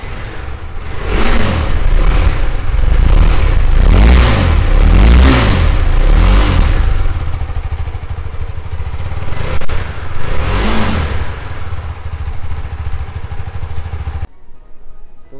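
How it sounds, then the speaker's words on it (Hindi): KTM Adventure 390 motorcycle single-cylinder exhaust blipped in several sharp revs close by, each rising and falling fast, then settling into a rougher idle before cutting off. "मैं अभी आपको इसका एग्जॉस्ट सुनाता हूँ"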